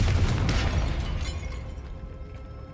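A spell explosion in the Hogwarts Legacy video game, a loud booming blast that rolls out and slowly decays over a few seconds.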